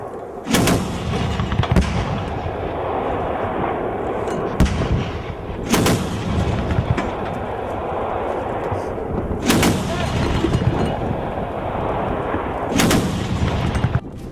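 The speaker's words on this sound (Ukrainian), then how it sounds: "з усіх сторін чути вибухи, свист мін та стрілкотню автоматичної зброї" Heavy, constant gunfire and explosions with whistling mortar rounds, sharp loud blasts standing out at intervals over a dense roar of automatic weapons fire.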